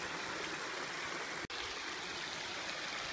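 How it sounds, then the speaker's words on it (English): Creek water flowing along a state park trail after heavy rains, a steady, close hiss and rush broken by one brief dropout. "I'm just going to go ahead and cross the creek here and head back on the other side"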